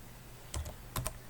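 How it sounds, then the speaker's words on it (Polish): A few soft, close keystrokes clack on a computer keyboard as a command is entered, two quick pairs of taps in a quiet room. "Wpisujemy format"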